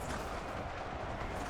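Dense, distant gunfire and booming artillery roll continuously through a large battle between American and German forces in Ultimate Epic Battle Simulator 2, a muffled, constant rumble of shots.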